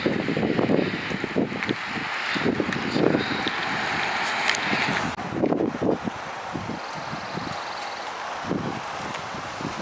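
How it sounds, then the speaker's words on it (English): Wind buffeting a microphone outdoors beside an old green caboose in Nisswa, Minnesota, a steady broadband rush with gusty bursts throughout, rustling and fairly loud, with no voice heard. "Trying to shield that wind."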